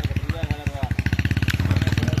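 A motorcycle engine runs with a steady, rapid thumping putter close by, keeping an even rhythm with a slight rise toward the end, while voices can be heard around it.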